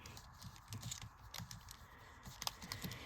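Data values are tapped in on TI-84 calculator keys, a quiet run of soft, close plastic clicks in an uneven rhythm against faint background hiss, with no voices.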